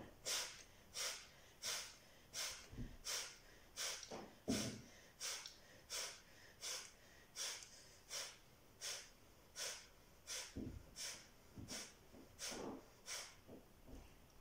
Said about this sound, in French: on va être parti pour les expires actives. Expire par le nez.